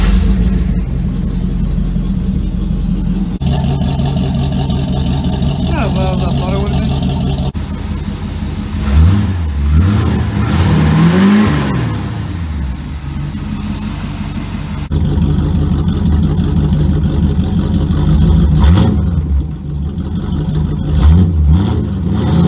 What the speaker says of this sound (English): I'll have a little sound clip without that muffler, so a straight pipe for now.